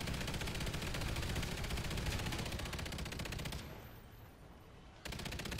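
Light machine gun firing rapid automatic bursts in the Call of Duty Extinction video game, a fast steady stream of shots that drops off briefly near the end before the firing resumes.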